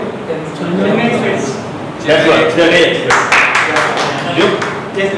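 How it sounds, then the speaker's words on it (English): Scattered clapping from a Toastmasters meeting audience rises after about two seconds into a burst of sharp claps, with voices talking through the whole stretch. "That's a clap for this."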